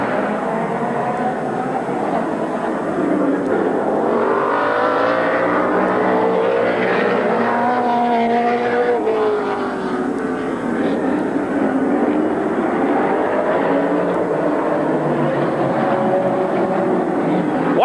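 Several race cars circle Midvale Speedway on a cold night with engines droning steadily as they warm their tires, a loud, continuous roar of mixed engines rising and falling as they pass, heard from a distance with crowd ambience.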